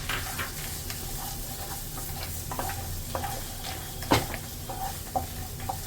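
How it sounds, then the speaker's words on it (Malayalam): Chopped onion, garlic, ginger and cashews sauté in a pan for butter paneer, giving a continuous soft sizzle under occasional scraping stirs and light taps of a spoon against the pan. "ഇനി അതെല്ലാം ഇന്ന് നല്ലോണം ഒന്ന് വഴണ്ട് അതൊന്ന് ബ്രൗൺ കളറാവണം"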